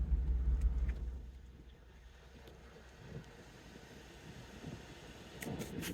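A Ford F350 pickup truck pulls slowly forward, its engine a low steady rumble that swells at the start and again near the end, with faint rattles and wind buffeting over the mic.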